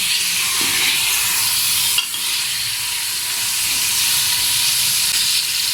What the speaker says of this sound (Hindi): इसे हम हल्का सा 5 मिनट के लिए भुनेंगे ताकि चिकन का कलर चेंज हो जाए।